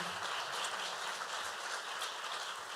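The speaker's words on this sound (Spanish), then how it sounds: "les pido antes un gran aplauso para el maestro" An audience applauds a teacher at a talk, steady dense clapping that fills the whole stretch at moderate level, with no voices standing out.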